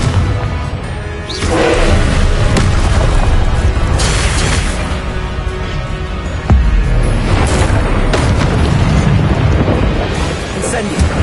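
Fiery spell blasts from the Confringo curse in Hogwarts Legacy, a string of loud booming bursts and thuds over a dense, continuous battle din, with a sharp hit near the middle.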